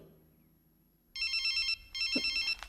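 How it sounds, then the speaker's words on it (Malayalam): A mobile phone rings in a classroom with a loud electronic warble in two bursts of rapid repeating tones, the second cut short by a brief click, after a quiet room hum. "Whose phone is that?"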